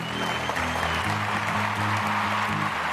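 A studio audience on a Bengali TV comedy show claps for a performer, a dense, even burst of applause over low background music lasting a few seconds.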